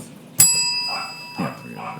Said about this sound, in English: Hitting the bell.